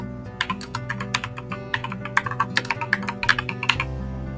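Rapid clicking keystrokes on a computer keyboard while typing a terminal command, a quick irregular patter of taps over a low background hum.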